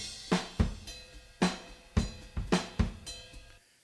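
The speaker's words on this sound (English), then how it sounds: "The room mics by themselves without processing sound like this." Unprocessed room mics on a drum kit pick up a short groove of roughly ten distant, roomy hits, with deep kick thumps and bright crashy snare cracks ringing into the space before the sound stops.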